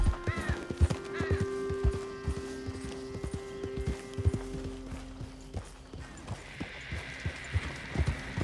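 A horse gallops in the video game Red Dead Redemption 2, rapid rhythmic hoofbeats clopping throughout with a brief whinny and low ambient game music, fairly faint, no talk.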